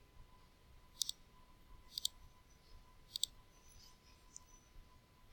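A computer mouse clicks crisply while drawing classroom walls in CAD software, sounding three sharp double clicks about a second apart over a faint steady hum, quiet and close.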